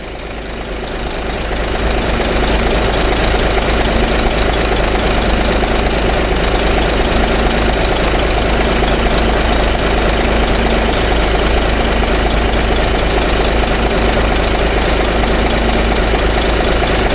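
A diesel engine in an Isuzu ELF commercial truck idles steadily throughout with ignition on and the transmission in park or neutral, a loud, continuous low rumble with a faint knocking texture and no talk.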